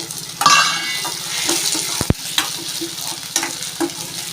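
Onion, garlic and curry leaves sautéing in a pan, with a loud, close sizzle and repeated scraping strokes of a spatula, plus a sharp clack of utensil on metal partway through.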